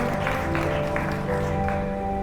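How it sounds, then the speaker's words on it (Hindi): Applause from a church congregation at a pastor's sermon, a steady, dense wash of clapping filling the room with sustained music tones underneath, with no pauses. "तालियां बजाओ भाई के लिए, मन के लिए तालियां"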